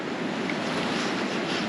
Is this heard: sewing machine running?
no